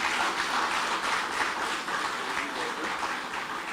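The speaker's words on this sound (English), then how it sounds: "I'm sure from the live we can give him a big round of applause" A crowd at a State House housing drive event applauds steadily, a dense continuous wash of clapping held at a fairly even level throughout.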